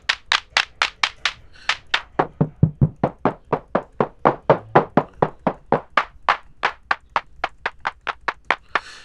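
Synthesized clap sounds from a custom clap machine built in Ableton Live, roughly thirty sharp, dry claps in a steady even rhythm, loud and close with no talking.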